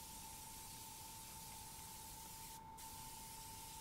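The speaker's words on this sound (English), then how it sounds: "I'm also spraying a halo around it" An airbrush sprays white paint through a stencil in a steady, even hiss at close range, with a thin constant tone running beneath it and a brief brighter burst near the end.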